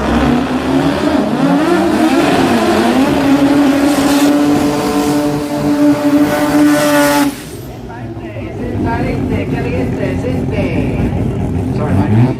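A car doing burnouts on a road at a jamboree, a loud sustained engine roar with revving and tire noise that cuts back sharply partway through, then continues rougher, with crowd voices mixed in.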